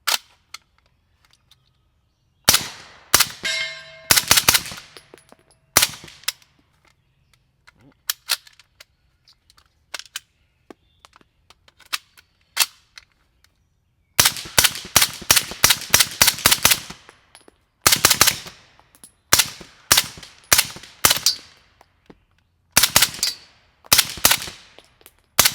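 Zenith firearm shooting Fiocchi 158 grain subsonic ammunition outdoors: several strings of sharp, close reports, some in rapid bursts and some single shots, separated by quiet pauses.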